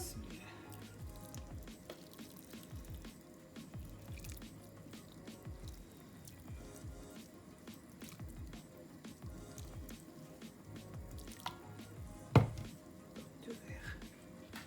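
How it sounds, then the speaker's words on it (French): Cold water poured onto couscous in a couscoussier, heard as a faint, quiet trickle of drips and soft wet squishes throughout, with one brief sharper splash near the end. "On va mettre de l'eau froide."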